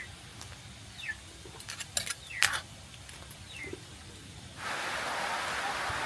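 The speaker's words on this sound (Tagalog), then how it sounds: "Bumagsak na naman po ang ulan." Rain in a rural countryside setting, starting suddenly as a loud steady hiss that covers everything, after scattered chirps and small knocks earlier on.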